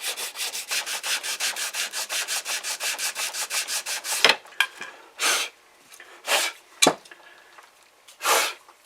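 Sandpaper rubs back and forth over a wooden 10/22 rifle stock, starting as a steady rhythmic run of close, even strokes and then breaking into a few slower, separate swipes with pauses between them.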